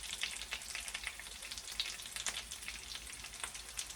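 Potato pancakes frying in a pan over medium-high heat, a steady crackling sizzle with dense spattering pops, fairly quiet and continuous, with no talking.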